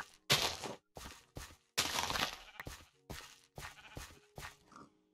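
Sheep bleating in the modded Minecraft game MineColonies, a run of short, fairly loud repeated bleats in close succession inside a noisy farm enclosure.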